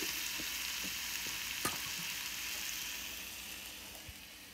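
Shrimp frying in a pan keep up a continuous, quiet sizzle and hiss, with a few light stirring scrapes and a single sharp clink of the utensil, and no voices.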